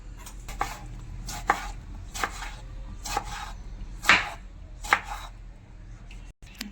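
A knife chops a tomato on a board in sharp, fairly regular strikes, about one every half second to second, close and crisp over a faint background hum.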